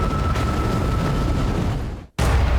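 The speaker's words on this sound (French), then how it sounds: "Cette vidéo montre comment de simples règles de physique peuvent mener à de dangereuses explosions." A loud sustained booming blast roars with dense rumble for about two seconds, cuts to a brief silence, then the roar resumes abruptly.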